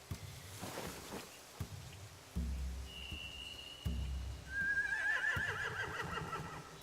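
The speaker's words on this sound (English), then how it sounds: "They have horses." Horses in The Walking Dead video game give a clear whinny, one quick cry and then a longer shaky neigh, over soft hoof clops and a rainy background.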